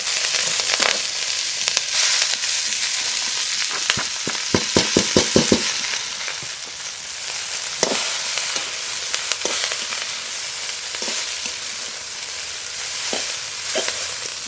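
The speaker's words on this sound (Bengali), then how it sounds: "রসুন আর লঙ্কা একটু ভাজা ভাজা করে নিয়েছি এবার কুচানো ওলকপির পাতা দিয়ে দেবো" Chopped kohlrabi leaves fry in hot oil with garlic and green chili, giving a loud, steady sizzle broken by a quick run of scraping stirs and occasional clinks.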